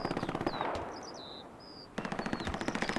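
Automatic weapon fire in the World War II shooter Hell Let Loose, a rapid burst of loud close shots, a short pause with distant whistling effects, then another sustained burst.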